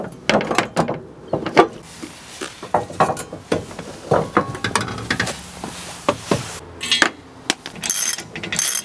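A bolt being worked through the threads of a bash bar on a widebody AE86, with scraping metal clicks, ratchet-like turns and knocks coming in irregular bursts, close and fairly loud, with no voices.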